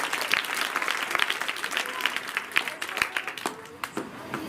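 An audience at a public event in Wakodi, Malkapur claps to welcome the organisers of a water ATM initiative, a dense steady burst of applause from many hands that carries on for several seconds, fairly close and loud.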